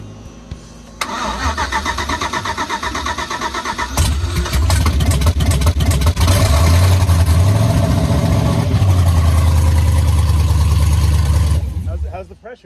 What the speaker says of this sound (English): All right, Noah, crank it.